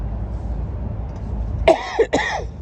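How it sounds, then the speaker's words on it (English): Two quick, sharp coughs close to the microphone, following a stretch of quiet room noise. "pardon me for the cough"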